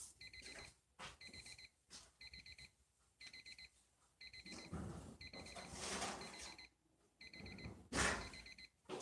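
Oven timer going off while cookies bake: a loud electronic alarm in repeated bursts of rapid beeps, about eight short groups separated by brief gaps, with kitchen noise underneath.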